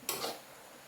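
A quick scraping stir of vegetables and mushrooms in a pan, one brief swish with a faint sizzle beneath it.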